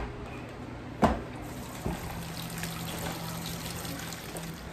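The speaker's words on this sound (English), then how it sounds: "I'm gonna throw those apples in a big bowl of water." Two distinct splashes as apples drop into a big bowl of water, followed by faint trickling and sloshing.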